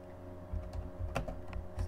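Soft, quick clicks of a computer keyboard as an SQL query is typed, a short run of irregular keystrokes at close range over a faint steady hum.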